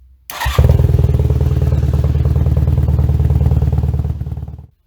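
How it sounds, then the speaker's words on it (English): A Honda CB450SC motorcycle engine starts with a clatter and idles loudly nearby, its exhaust pulsing in a fast, steady throb before cutting off. "You guys got to check out this exhaust note though."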